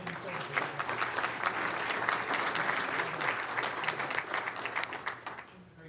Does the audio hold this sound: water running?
no